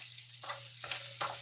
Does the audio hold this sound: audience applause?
no